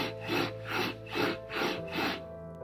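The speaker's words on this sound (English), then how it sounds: "What if I rub it on the table?" An object is rubbed back and forth on a table in five even strokes, each a soft, breathy scrape that swells and fades, close and clear with no talk.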